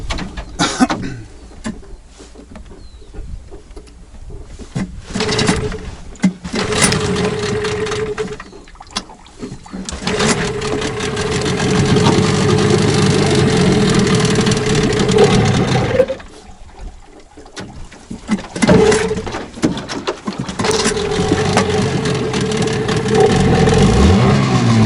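Mikatsu 9.8 outboard boat motor started cold, loud engine running and revving in uneven surges with brief drops and restarts, mixed with water and handling noise.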